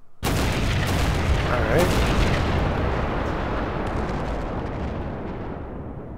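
Soldiers open fire on German troops in a war game, a sudden loud burst of gunfire and booming blasts that rolls on and slowly fades, with someone speaking briefly over it.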